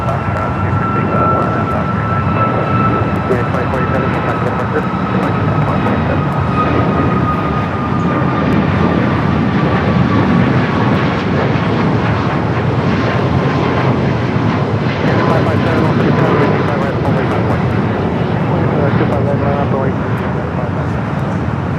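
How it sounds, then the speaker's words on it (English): A Lufthansa Airbus A380 on arrival at LAX roars loudly and continuously, its jet engines whining with a slowly falling pitch, while people talk in the background. "Lufthansa A380 Super is the next arrival on the north side"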